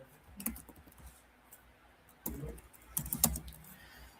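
Typing on a computer keyboard, with small clusters of quiet, close key clicks that come in short bursts separated by pauses.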